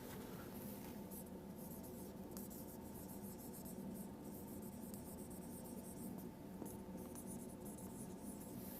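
A pen scratches steadily across paper with continuous soft friction, close and fairly quiet under a constant background hiss.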